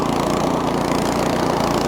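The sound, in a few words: Craftsman snowblower throwing wet heavy snow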